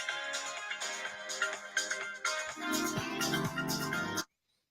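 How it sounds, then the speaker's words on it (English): Phone ringtone for an incoming call, a repeating melodic electronic ring that stays loud and steady for about four seconds and then cuts off abruptly, with no talking. "Oh, we got a phone call"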